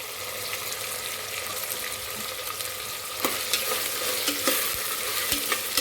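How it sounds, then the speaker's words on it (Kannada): Onions and green peas sizzle steadily in a hot pan while a spoon stirs through them for Karnataka-style vangibath, with scraping clatters growing sharper toward the end. "ಎಲ್ಲ ನೀಟಾಗಿ ಫ್ರೈ ಮಾಡೋಣ"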